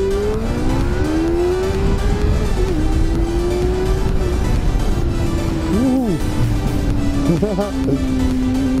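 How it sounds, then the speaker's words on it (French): A Honda Hornet motorcycle engine runs hard under acceleration with a loud, sustained tone that holds steady, then wavers and rises in short bursts near the end, with voices mixed in. "c'est à ce moment-là que je devais vous faire un petit test d'accélération"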